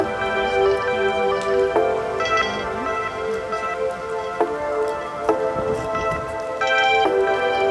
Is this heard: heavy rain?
yes